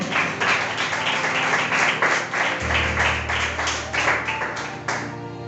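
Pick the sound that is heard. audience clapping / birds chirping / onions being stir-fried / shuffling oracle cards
audience clapping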